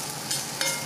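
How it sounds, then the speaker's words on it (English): Eggs fry in a pan over high heat with a steady close sizzle and two brief brighter spits of crackle. "you can see they're sizzling really good"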